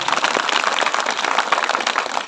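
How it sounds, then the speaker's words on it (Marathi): Audience applause for Maratha activist Manoj Jarange Patil at a gathering in Antarwali Sarati, a dense steady wash of many clapping hands, loud and unbroken throughout. "मनोज पाटील जरांगे यांच्यासाठी सुद्धा आपण सर्वांनी एकदा जोरदार टाळ्या वाजवाव्या"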